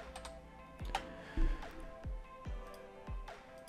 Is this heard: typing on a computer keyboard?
yes